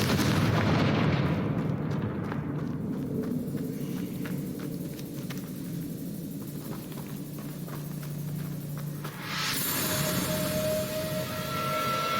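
A Confringo spell blast in Hogwarts Legacy, a video game, rolls out as a loud, booming explosive burst that decays into a long rumbling tail, followed by a fainter whooshing swell near the end.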